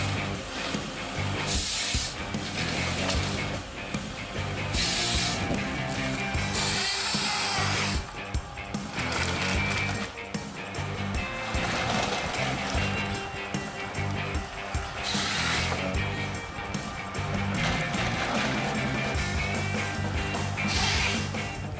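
A timber harvester's cutting head works through trees in a Swedish forest, a loud continuous mechanical roar with repeated bursts of sawing and grinding, layered with a rhythmic background score.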